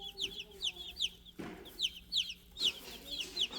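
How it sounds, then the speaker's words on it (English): A brooder full of 24 baby meat chicks chirps constantly, with many quick high peeps overlapping in busy bursts, close and moderately loud, alongside a brief rustle partway through. "we've got our 24 healthy chicks in here and we're gonna feed and water them"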